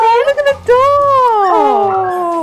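A dog whimpers and howls close by in a long, rising and falling whine after a few short yips, loud and clear with a brief overlap of talking.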